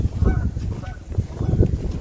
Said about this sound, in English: We have geese living in our pond.